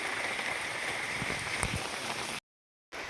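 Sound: heavy rain

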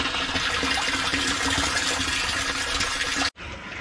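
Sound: water let run into pond filter barrel

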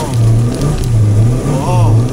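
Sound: Hyundai Atos car wheels spinning while accelerating on rally stage

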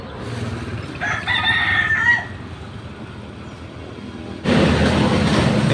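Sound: wild junglefowl crowing

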